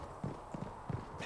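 Horse hooves clip-clop in Dragon Age: Inquisition, a few soft uneven hoof falls at a slow walking pace, faint and muffled against a low background.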